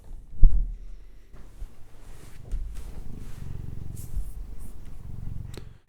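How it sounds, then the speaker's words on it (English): A low, steady cat purr rumbles close by, with a brief bump near the start and faint rustling over the continuous drone. "Can you hear that big purr?"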